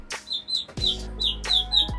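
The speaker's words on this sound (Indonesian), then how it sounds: "Murai batu" Short bright phrases from a white-rumped shama repeat at a steady pace, clear and close, with a low steady hum running underneath.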